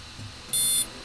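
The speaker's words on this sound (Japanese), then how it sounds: "ビープ音が1回" A single short, high-pitched electronic beep from a Nikon Z7 camera sounds once, clear and close, against a quiet background.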